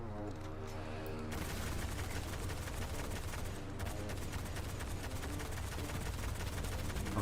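Heavy weapon fire in the Destiny video game erupts after a brief tonal lead-in, becoming a rapid, sustained burst of loud automatic shots that continues to the end.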